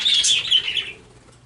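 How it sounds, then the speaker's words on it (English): Three pet birds fly past in a quick flyby outdoors, a close burst of bright chirping and fluttering that fades out within about a second. "My 3 birds just did a flyby."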